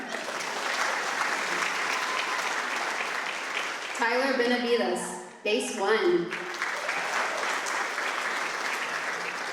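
A high school choir concert audience claps steadily for choir members, a broad wash of applause that continues under a voice reading out names.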